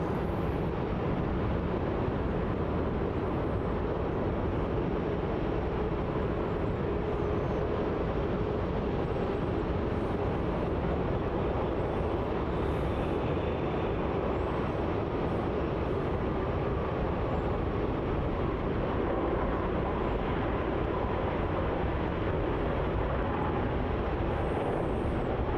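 Malaysia Airlines jet from Kuala Lumpur landing at Melbourne Airport, a steady broad roar of engines and rushing air holding at constant loudness throughout, heard from a distance with no talking.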